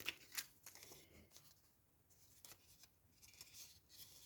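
Scissors snip through paper while a Halloween journal is decorated: quiet, close cuts and soft rustling in a few short passes, with no voices.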